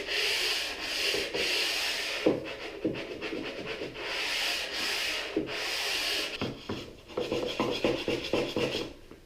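Steady rasping strokes of sandpaper easing the edges of a wooden fireplace mantle, long rhythmic passes close up, then shorter quicker scrubs with small knocks near the end, no voices.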